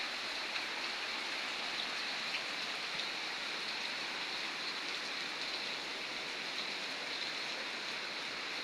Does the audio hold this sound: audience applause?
no